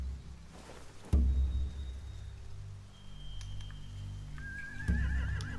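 Horses in The Walking Dead: The Final Season video game give a couple of whinnies, with a low thud first and a clear, wavering neigh near the end over quiet ambience.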